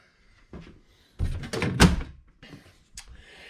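A cabinet door on a circuit breaker fuse panel inside a luxury RV tiny house opens with a few sharp knocks and thunks, followed by a louder clattering swing and a couple of softer taps, close and without talk.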